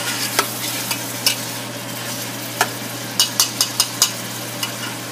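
Ingredients for a Pakistani chicken-broth pulao are stirred and browned in a pot: a steady low sizzle runs under scattered sharp scraping clicks of a utensil against the pot, with a faint hum throughout.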